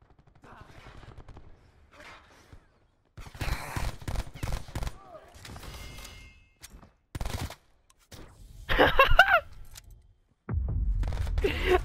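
Bursts of pistol gunfire in a shooter video game, several sharp loud shots scattered through the stretch between quieter gaps, with voices talking at moments.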